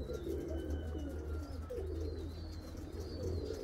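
White pigeons coo in a low, steady murmur from a flock close by, joined by soft chirps and faint higher bird calls throughout.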